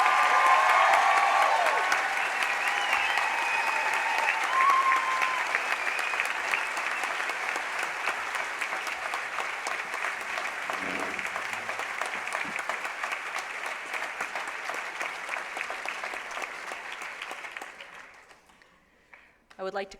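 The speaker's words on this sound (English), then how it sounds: "let's have a really huge round of applause for these really impressive graduates" Sustained audience applause at a graduation ceremony, a dense wash of many hands clapping steadily for nearly twenty seconds before tapering off near the end, with faint voices underneath.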